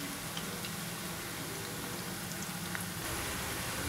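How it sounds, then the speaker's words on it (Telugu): Raw banana chips sizzle in hot oil while frying to a golden color, a steady dense crackle and hiss with faint popping, close and even throughout, with no one talking. "ఇలా కొంచెం గోల్డిష్ కలర్ వచ్చేంత వరకు ఈ మన అరటికాయ చిప్స్ను వేపుకోవాలి."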